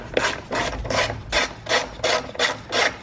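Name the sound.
ratchet wrench loosening J hook nuts on Mazda 3 battery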